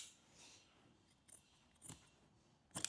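Scissors trimming the corners of Land Rover Defender roof lining fabric, a few quiet, close snips spaced irregularly, ending in a sharper cut.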